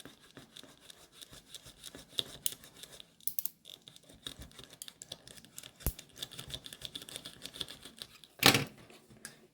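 A knife cuts a leather stiffener with faint scraping and crisp scratchy strokes, close and quiet, sometimes separated by pauses, with a louder burst of rustling near the end and no talking.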